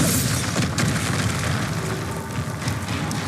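A Bombarda spell explosion in the video game Hogwarts Legacy, a loud, dense booming roar that stays heavy and rumbling throughout, with rough bursts layered over it.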